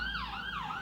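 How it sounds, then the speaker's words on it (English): An ambulance siren wails in a brief, rising and falling sweep, heard clearly and fairly close over low road rumble. "I hope the ambulance is coming, it's on its way"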